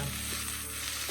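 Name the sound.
beef sizzling and browning on griddle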